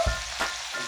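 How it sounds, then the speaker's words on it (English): A stir fry of vegetables sizzles in a pan with a soft, steady hiss and a brief scrape of stirring near the start. "While I have my stir fry cooking"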